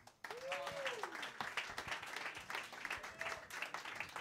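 Audience applause greets a musician at a live jam performance, steady clapping from a crowd that starts abruptly and holds throughout, with a voice and some tonal sounds briefly audible over it.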